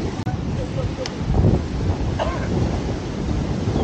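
Wind roars steadily across the microphone in a loud, rumbling rush that muffles everything else. A brief voice may be mixed in.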